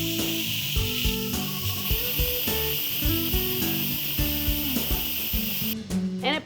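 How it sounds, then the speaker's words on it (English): Steam hisses steadily from an Instant Pot during pressure release after cooking a vegetarian queso chili, a bright continuous hiss running beneath louder music until it cuts off near the end. "now we want to release the pressure, and you want to do this away from your face"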